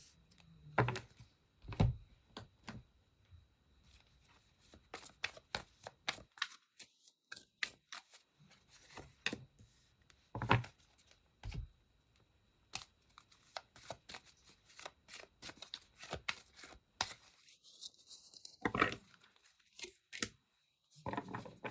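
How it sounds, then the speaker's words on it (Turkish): Tarot cards are shuffled by hand close up in a quiet room, giving repeated soft riffling bursts and flicking slaps in irregular runs with brief pauses between them, with no talk. "Gelin hemen kartlarımızı karıştırmaya başlayalım."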